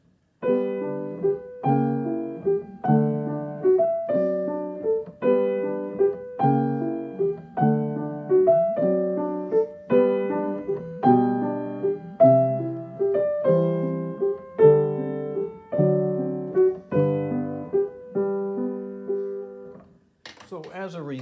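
Piano chords from Schumann's From Foreign Lands and People, Op. 15, played in short, detached stabs without sustain pedal, each cut off quickly with no ringing, giving a steady, jagged rhythm with no talking.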